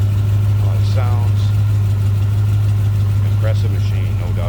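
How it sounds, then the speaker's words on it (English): A 1990 Chevrolet Corvette ZR1 engine idles steadily with a strong low hum throughout, while someone talks over it intermittently. "you get an idea of the engine, how it sounds"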